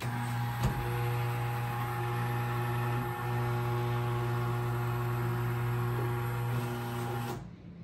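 A Thermador kitchen downdraft vent lowering into the countertop, a steady close motor hum with a constant whine running for several seconds before cutting off abruptly at the end.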